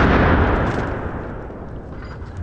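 A .500 Nitro Express elephant gun fired at body armor backed by clay gives a loud, close blast with a booming decay that fades over about two seconds.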